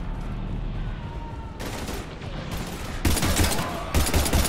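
Sustained gunfire in the Mass Effect video game during a firefight with husks, a dense roar of automatic shots that thickens into louder bursts toward the end, with steady battle noise throughout.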